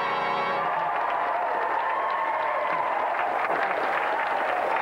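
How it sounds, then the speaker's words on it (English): Studio audience applauding a contestant on a TV games show, a steady, dense wash of clapping that holds for several seconds with a faint tonal hum underneath. "round of applause for Tony"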